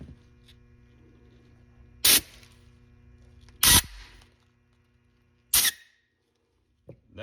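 Three short, sharp blasts of compressed air blowing through a snowmobile carburetor, spaced a second or two apart, loud and close over a low background hum.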